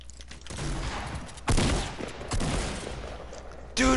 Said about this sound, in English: someone else is shooting me with the crossbow